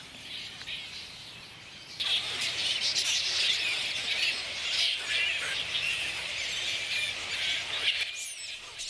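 Bats in a crowded roost, shifting from branch to branch, keep up a constant high-pitched screeching and chattering that starts low and swells after a couple of seconds into a dense, continuous chorus with no speech.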